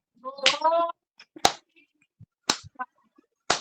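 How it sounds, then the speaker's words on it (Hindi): Three sharp, separate open-handed claps ring out about a second apart during a yoga session's clapping exercise, loud and close, with brief voices talking between them. "चलिए अब हम ताली का अभ्यास करेंगे। पूरे हाथ खोल करके ताली करनी है"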